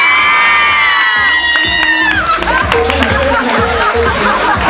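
A crowd at a Miss Fashion 2016 semifinal pageant cheers loudly as finalists are announced, with high-pitched shrieks and whoops from young voices over steady clapping, all close and sustained for the whole stretch.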